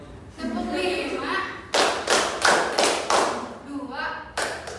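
In a classroom, a group plays a counting clap game. Clusters of sharp, loud claps come in bursts of several beats, and voices call out counts between the bursts.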